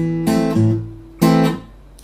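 A complete Travis-picking guitar lick, its two halves joined into one phrase. Plucked notes come in two bursts against an alternating thumb bass, close and clear with no talking, each burst ringing briefly before it decays.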